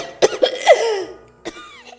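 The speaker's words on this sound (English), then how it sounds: "Her words disappear into a fit of coughs, thick with mucus and blood." A short coughing fit: several harsh, wet coughs in quick succession, close and loud, followed by a last rasping cough after a pause.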